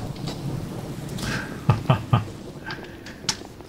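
Rain patters steadily during a thunderstorm while a few sharp thunder cracks burst out in quick succession midway, followed by a later, fainter crack.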